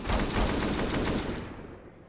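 Rapid bursts of gunfire from a Counter-Strike match crack out in quick succession, loud and dense at first, then fading away in the last half second, with no voices over it.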